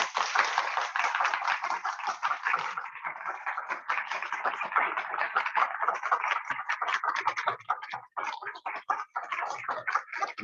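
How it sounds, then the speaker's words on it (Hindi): A satsang audience claps for a mother, a crisp, busy patter of many hands that stays strong at first, then thins into more separate, uneven claps toward the end. "मम्मी के लिए भी जोरदार तालियां बजा दो भाई।"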